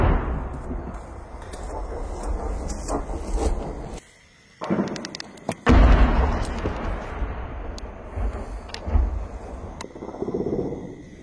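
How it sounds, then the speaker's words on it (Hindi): Heavy artillery shelling in the Arnia sector: booming blasts roll and echo in the distance, with a sudden near explosion, under a steady rumble and scattered crackling. "लगातार हैवी शेलिंग हो रही है"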